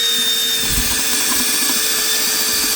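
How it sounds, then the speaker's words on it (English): A sub compact drill bores a pilot hole for a lag bolt. The motor whines steadily and loudly at close range for the whole stretch, with a faint grinding under it and no speech. "Whenever you're working with a lag bolt, doesn't matter how big the size is, you're always going to do a pilot hole."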